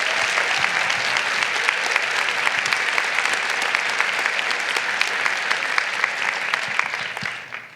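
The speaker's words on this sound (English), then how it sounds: "let's give a round of applause again for the 50 most influential women of West Michigan" An audience at an event honoring West Michigan's 50 most influential women gives steady, dense applause, many hands clapping continuously at even strength before tapering off at the end.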